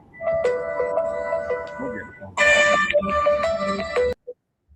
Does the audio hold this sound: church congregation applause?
no